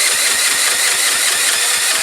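An engine left cold for a year turns over in first gear on a low battery, a loud, close, evenly paced chugging of about five pulses per second with no talking.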